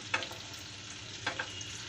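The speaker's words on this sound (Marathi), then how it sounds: "सगळे फ्राय करून घेऊया. आपण आहे ना एक एक करून पलटी करून घेऊया." Slices of bitter gourd frying in oil and being turned one by one in a pan, a soft steady sizzle broken by a few brief clicks and flips, close and without talk.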